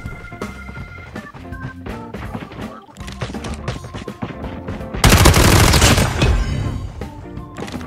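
A PDW gun firing in the mobile shooter Call of Duty Mobile: rapid bursts of automatic shots throughout, climaxing in a loud dense barrage in the second half.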